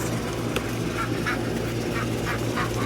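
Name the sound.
ducks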